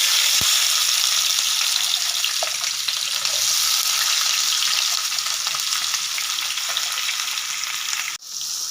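Shallots fry in oil in a pan with a steady, close sizzle that holds loud and even throughout, with a brief soft clatter near the start and a short dip toward the end.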